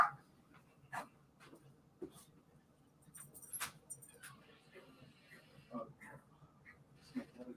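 A dog reacts to a doorbell with a few short, scattered barks and whimpers spread across several seconds, moderately near and indoors, with faint voices and small handling noises between them.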